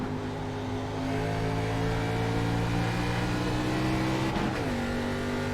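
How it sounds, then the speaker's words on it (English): A NASCAR-style race car in the iSCAR racing video game at Richmond, its engine droning loudly and steadily before a quick downshift near the end drops the engine note, with the car heard up close. "He's downshifting now all the way to third gear, trying to roll through the center of the corner."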